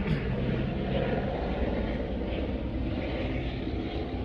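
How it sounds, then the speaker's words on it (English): Broad, steady drone of airplanes passing overhead, a continuous rumbling roar that holds at an even level throughout, no voices over it. "these airplanes and stuff"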